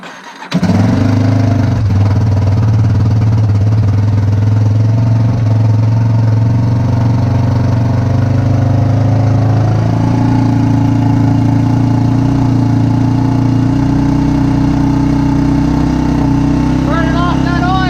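A motorcycle engine idles steadily and loudly after starting, burning off oil, with a constant low throb that rises slightly in pitch partway through.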